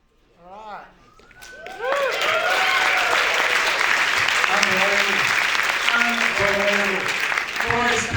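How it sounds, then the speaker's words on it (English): Crowd at a film premiere screening in Perth breaks into loud, sustained applause for the cast after a few spoken words, with cheering voices and whistles rising over the clapping. "It's a round of applause for the stars of the show."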